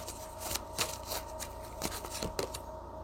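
Tarot cards are shuffled and cut by hand, giving several quick riffling bursts and soft slaps at close range, with no talk.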